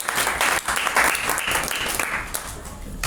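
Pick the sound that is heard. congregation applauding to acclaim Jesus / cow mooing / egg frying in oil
congregation applauding to acclaim Jesus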